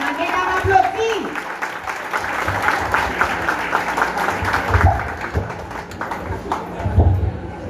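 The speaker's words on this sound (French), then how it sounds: "Applaudissements, mesdames, applaudissements." An audience applauds at a women's honouring ceremony in Port-au-Prince, Haiti, with a continuous wash of clapping and crowd noise and some voices mixed in.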